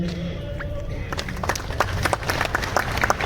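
Clapping breaks out at a felicitation ceremony during Republic Day celebrations at the Amravati municipal corporation, building from murmuring crowd noise into dense, moderately loud applause from a gathered audience.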